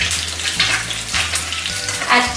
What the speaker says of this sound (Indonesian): Kadang-kadang sebenarnya itu ini kuningnya nggak begitu matang, namanya telur mata sapi ya teman-teman.